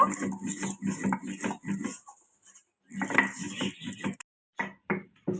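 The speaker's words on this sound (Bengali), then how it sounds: "মশলাটা গুড়িয়ে নেব" Fried masala spices being ground in a grinder, rough bursts of whirring and rattling in short pulses separated by brief pauses, close and fairly loud.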